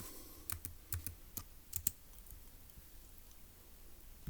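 Keystrokes on a computer keyboard, a quick irregular run of sharp clicks in the first two seconds, then sparse quieter taps in a quiet room.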